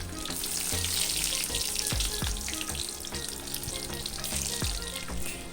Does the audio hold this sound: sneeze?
no